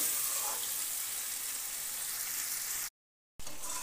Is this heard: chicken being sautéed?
yes